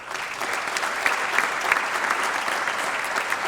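Steady applause from the audience at a small business awards event, with even crowd clapping and a few sharper claps standing out, heard on its own.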